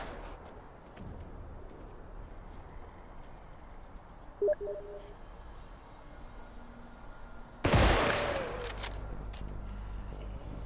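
A shooting video game fires a single loud gunshot crack with a rough tail about two-thirds of the way in, after quieter ambient rumble and a brief metallic click.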